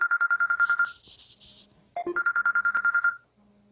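A KakaoTalk message notification chimes on a phone, a repeated trilling ring tone playing in two bursts separated by a short gap, loud and close with no speech.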